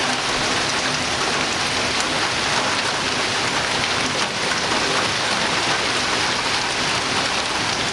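Heavy West Florida summer rainstorm, a dense, loud, steady roar of rain pouring down without a break; no clear thunder stands out.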